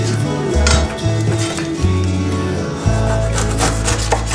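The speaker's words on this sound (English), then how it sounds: "So as I said, I'm gonna Slice my pineapple." Knife slicing through pineapple on a cutting board, a few rough rubbing strokes and knocks against the board, close and loud, with no talk.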